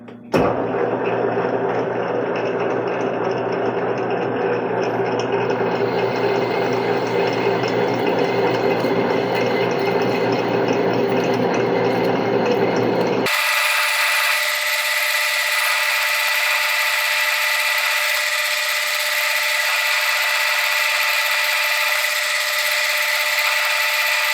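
A lathe with a boring bar enlarging a drilled hole to about three-quarters of an inch, giving a steady, loud machining whine with harmonic tones that shifts abruptly to a higher, thinner pitch partway through and runs continuously with no talk.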